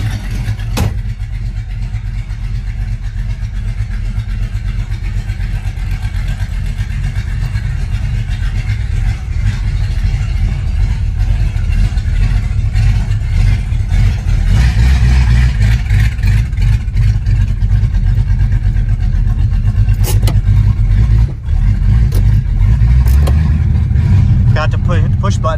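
A 1958 Plymouth Fury with a fuel-injected engine runs loudly at idle in startup mode, a steady low rumble that swells as it revs around the middle, with someone talking over it.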